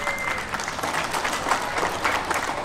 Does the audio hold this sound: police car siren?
no